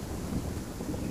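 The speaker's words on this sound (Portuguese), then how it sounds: "Ó, tá chovendo, tá chovendo." Heavy rain falls steadily in the zombie survival video game Undawn, a dense, constant wash of noise with a low rumble and no voice.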